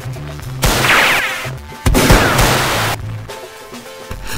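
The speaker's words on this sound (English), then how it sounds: "Dazzling, never-before-seen gunplay." Gunfire sound effects from an action movie trailer come in sharp, loud bursts of rapid shots separated by brief gaps, dense and crashing, with no talking over them.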